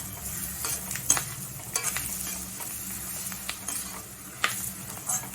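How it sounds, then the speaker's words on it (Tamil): Ingredients for Tamil vatha kuzhambu sizzle steadily in hot oil while being sautéed, with scattered scrapes and light clinks of a spoon stirring against the pan, close and fairly quiet. "நல்லா எண்ணெயோடு சேர்த்து அதை வதக்கணும்."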